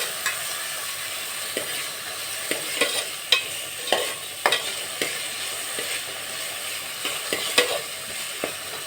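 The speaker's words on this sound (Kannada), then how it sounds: "ಒಂದು ಒಂದರಿಂದ ಎರಡು ನಿಮಿಷ ಫ್ರೈ ಆದರೆ ಸಾಕು ಜಾಸ್ತಿ ಫ್ರೈ ಆಗಬೇಕಾಗಿಲ್ಲ" Fish curry frying in a pan with curry leaves, giving a steady soft sizzle broken by scattered clicks and scrapes of stirring, close and moderately quiet with no voices.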